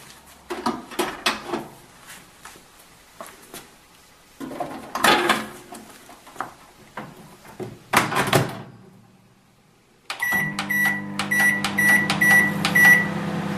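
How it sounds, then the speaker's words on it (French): A microwave oven heats a bottle of water: scattered clunks and clatter of handling and a door, then the oven starts with a steady low hum and repeated high electronic beeps at the end. "chauffez la bouteille d'eau au micro-ondes"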